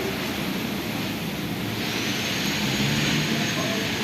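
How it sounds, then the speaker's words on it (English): An HP Plastic Machina ball valve durability tester for plastic ball valves runs with a steady, dense broadband whir and hiss, close and continuous with no pauses. "this is ball valve durability tester from HP Plastic Machina for testing plastic ball valve"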